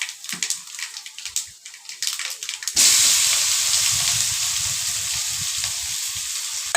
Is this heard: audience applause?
no